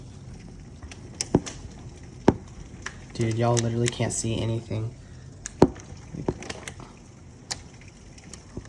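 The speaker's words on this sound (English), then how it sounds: "There's hail hitting my window." Quarter-sized hail strikes a window during a severe Lubbock thunderstorm with high winds, making sparse, sharp ticks and knocks spaced a second or so apart over a quiet background, while someone speaks briefly in the middle.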